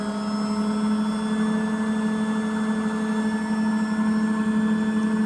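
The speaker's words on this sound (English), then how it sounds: "as you can see, it's spinning up to 200 RPM." Drum of a Beko WMY81283LMB2 washing machine, empty and slightly unbalanced with a worn spider arm, spinning steadily at about 200 RPM: a continuous loud motor hum and whine with a low rumble, no voices.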